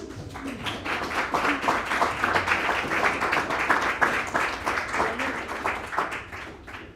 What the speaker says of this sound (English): Please a loud round of applause for them.